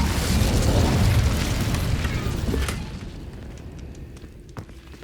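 An Incendio fire spell cast in Hogwarts Legacy bursts with a loud whooshing roar that fades after a few seconds, followed by quieter crackles and a small pop.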